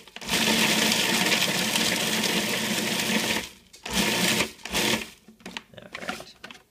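Hard bread rolls pulsed in a food processor into breadcrumbs: a loud, close, whirring motor roar runs for about three seconds, then breaks into a few short, choppy bursts.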